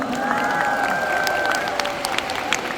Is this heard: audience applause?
yes